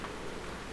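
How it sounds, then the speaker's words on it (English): Steady rainfall in a video game's weather system, an even hiss of rain filling the moment, moderately loud and continuous with no talk. "it's raining right now"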